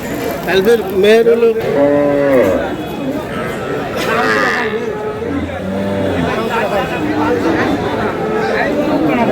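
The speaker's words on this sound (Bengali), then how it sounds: "গাভী বাছুর" A Sahiwal cow moos loudly a few times nearby at Aftabganj cattle market, with people talking in the background and faint traffic noise.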